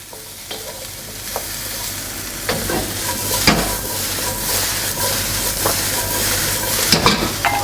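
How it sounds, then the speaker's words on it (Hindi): Asparagus and mixed vegetables sauté in a hot pan, with a steady close sizzle and repeated scraping and stirring clatters throughout. "इसको भी हम सौटे करेंगे, अच्छी तरह मिक्स करेंगे।"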